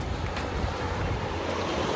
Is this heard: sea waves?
yes